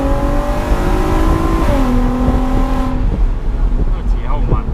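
A VW Golf R32 exhaust with its valves fully open revs and roars loudly up close, the engine pitch climbing and falling, under steady engine noise.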